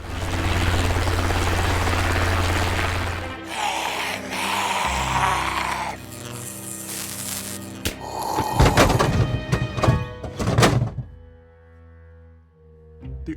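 A helicopter's steady rotor drone opens the scene, then gives way to a jumble of loud booms, bangs and sharp impacts, with gunfire-like bursts before the sound drops away.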